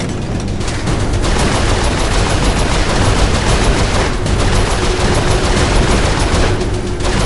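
Loud, continuous turret gunfire in Saints Row IV, a dense rattling stream of shots that runs almost unbroken, heard close and alone.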